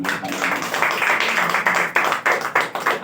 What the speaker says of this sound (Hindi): ये ताली मारेंगे।